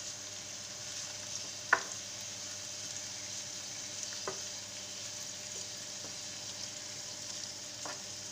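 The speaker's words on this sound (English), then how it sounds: "Need to cook very good the sausage." Sausage and garlic frying in a pan for spaghetti sauce give a steady, soft sizzle throughout, broken by a few sharp clicks and taps of a utensil against the pan; nobody speaks.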